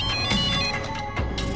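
A phone ringtone plays in a Hindi TV drama scene, a repeating electronic melody with steady pulses over light background music.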